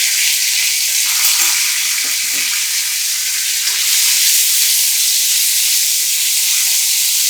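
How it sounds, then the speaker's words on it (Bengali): Chopped tomatoes frying with salt in a pan produce a steady, loud, bright hiss of sizzling with a few faint stirring touches, close up and without voices. "টমেটো কুচিটাতে আমি একটু নুন দিয়ে ভাজবো।"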